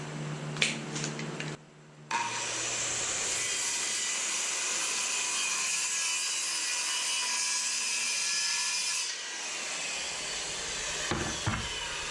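Saw ripping a wooden board in half for a tailgate party table: a few light knocks, then a loud, steady cutting roar lasting about seven seconds before it winds down.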